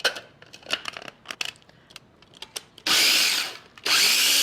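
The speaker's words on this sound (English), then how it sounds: "just grind it up a little bit and process with about 1/3 of a cup of olive oil" A food processor grinds mint leaves with salt and pepper in two loud, close bursts, each roughly a second long, after a stretch of scattered clicks and rustling as the bowl is loaded.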